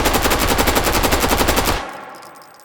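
Rapid automatic gunfire from a G22 machine pistol in the VR shooter H3VR, a loud, very fast burst of evenly spaced shots lasting under two seconds, then cutting off into a short fading echo.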